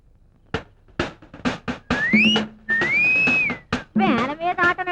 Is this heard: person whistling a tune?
yes